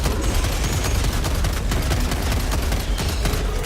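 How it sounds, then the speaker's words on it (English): An automated machine gun sentry firing in a war video game, dense rapid bursts of gunfire filling the whole stretch, loud and close with scattered sharper reports mixed in. "Machine gun sentry should deal with"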